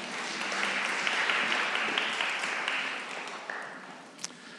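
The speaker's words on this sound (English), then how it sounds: "Give them a big clap." Church congregation applauding during a Sunday morning parish service, a steady wash of clapping that holds for several seconds and slowly fades, with no talk over it.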